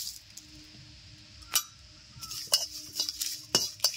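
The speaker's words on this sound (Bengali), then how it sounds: "তিন চারটে শুকনো লঙ্কা দিলাম, এক মিনিট নেড়ে ছেড়ে দিয়ে দিচ্ছি জিরে ও ধনিয়া।" Three or four dry red chillies are stirred in a dry wok, producing sharp metallic scrapes and clinks of a spatula in irregular bursts over a quiet, faintly humming background.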